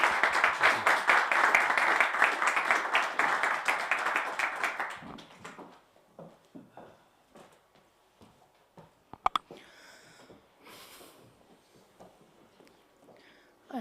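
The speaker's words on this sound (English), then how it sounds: "But first, applause to you." Audience applause after a lecture on modern antisemitism, dense steady clapping for about five seconds that fades into quiet room noise with footsteps and small handling sounds.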